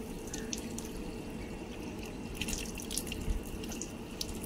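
Cold water pours steadily from a spring or tap in a dense, leafy outdoor spot near a zoo, a continuous close splashing stream with scattered drips and no voices.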